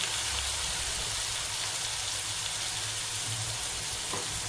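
Spring onion palya cooking in a pan gives off a steady, even sizzle and hiss like light rain, close and moderately quiet, continuing unbroken with no talk.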